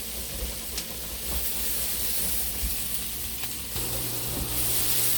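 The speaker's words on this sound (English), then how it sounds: "We're going to saute that up because, it, like I said, it doesn't take mushrooms long to cook." Mushrooms sautéing in a pan, later joined by onions, give a steady low sizzle with faint stirring scrapes and a few clicks, moderately close and without talk.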